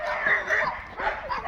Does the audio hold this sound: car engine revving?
no